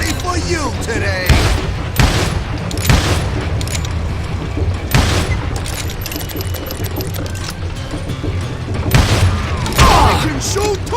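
Gunfire in the Western shooter Call of Juarez: Gunslinger: a run of loud, close, sharp shots and booming blasts spaced through the scene, some clustered into quick volleys, over a continuous game soundscape with occasional shouted voices.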